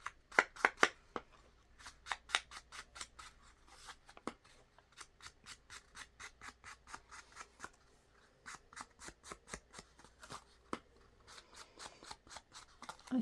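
Scissors cut paper for journal cards in a quick run of crisp snips, close and fairly quiet, with short pauses between bursts.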